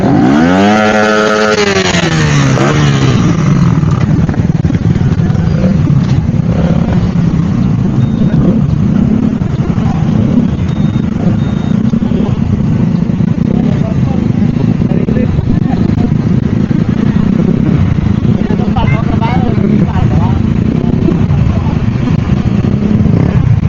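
Steady motorcycle engine running throughout, loud and close, with a rising rev at the start and people talking over it.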